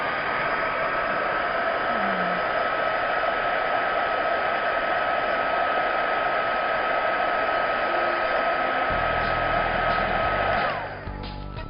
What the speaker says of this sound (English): We actually have a full-on heat gun, which makes it very easy.